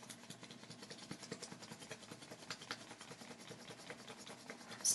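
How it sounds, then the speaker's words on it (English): Crayon rubbed back and forth over a leaf laid under paper for a printmaking leaf rubbing, a close, steady dry scratchy rasp of quick repeated strokes with no talking. "So I'm going to do my crayon rubbing and while I'm sort of holding the leaf in place with my other fingers."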